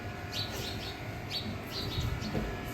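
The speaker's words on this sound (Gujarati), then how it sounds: "આમાં ચકલીઓ હે ગોરૈયા ઘણી બધી હોય અહીંયા" Sparrows chirp in short bright bursts against a steady background hum, several quick tweets spread across the moment.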